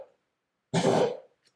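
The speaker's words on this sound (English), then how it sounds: "That's my dog barking and coughing." A sick dog gives a single short, harsh cough, close and fairly loud, alone against near silence.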